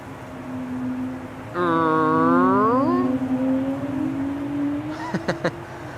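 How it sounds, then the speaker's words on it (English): An Air France Airbus A220 (Bombardier C-Series 300) jet at Amsterdam Schiphol, engines spooling with a steady hum that swells into a loud, shifting multi-tone whine partway through, then eases back, with a few sharp knocks near the end. "When you hear that, that means that the airplane's engines are spooling up or throttling down a little bit."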